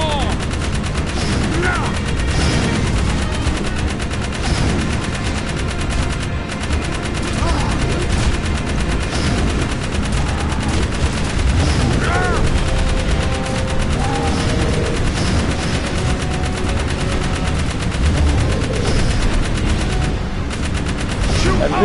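Rapid, sustained gunfire from an on-rail shooting segment in Jak 3, loud and continuous over game music and effects, while someone speaks briefly over the barrage.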